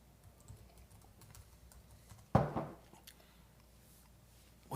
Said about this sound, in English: that was the flourish after typing